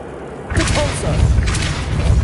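Force spell Depulso fired in Hogwarts Legacy: after a quiet start, a sudden broad blast breaks in and rolls into a sustained heavy rumble with low thuds, loud and near.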